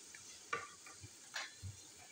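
Chopped ginger and green chilies dropped into hot oil left from frying beef kebabs on a tawa, giving a brief soft sizzle with a few light stirring scrapes, close and quiet, no talking.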